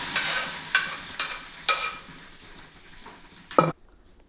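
Tempering for dal sizzles in a pan, with a steady hiss marked by several sharp spoon scrapes and clinks. A louder clank comes near the end before the sound cuts out, and no one speaks.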